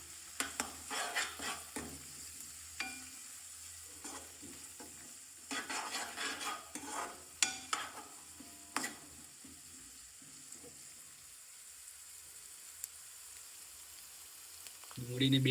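Onions and grated ginger are stirred and fried in a pan, with a spoon scraping and clattering in irregular bursts over a faint low sizzle, followed by a quieter stretch of gentle frying.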